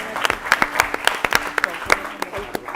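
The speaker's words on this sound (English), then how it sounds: "Let's clap for them." Audience applause for a team at a school quiz competition, a short round of clapping with distinct sharp individual claps over a murmuring crowd, moderately close.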